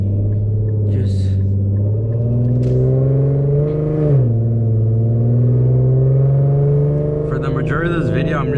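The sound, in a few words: Infiniti Q50S car driving, POV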